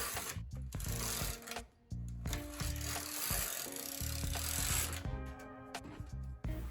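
A knitting machine carriage swept across the needle bed for two rows on a raglan sweater, close clattering ratchety passes with a short pause between runs and no talking.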